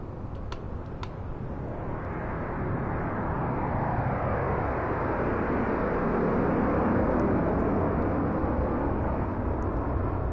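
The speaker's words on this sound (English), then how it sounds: "I was trying to see where the jet was." A jet aircraft passes over the Grand Valley track in Gran Turismo 7, played in VR. A broad, rushing roar swells steadily louder through the middle, then holds as a heavy wash of noise, with a few faint ticks on top.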